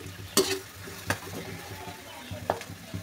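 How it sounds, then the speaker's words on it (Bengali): Leaves frying in oil in a pan for a homemade hair-fall oil: a steady close sizzle, broken by three sharp stirring clinks spread across the clip. "একদম লাল হয়ে একদম পুরো ওটা ভাজা হয়ে যেতে হবে"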